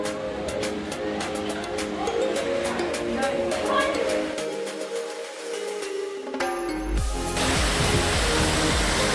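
Assaranca waterfall near Maghera beach gives a steady, close, broadband roar of rushing water, growing fuller and louder toward the end.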